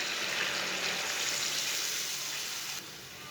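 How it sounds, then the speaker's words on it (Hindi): Steady broadband sizzling as water is poured into chicken masala frying in a pan, a loud continuous hiss that drops off sharply near the end, with no talking. "आधा गिलास पानी डाल लेंगे।"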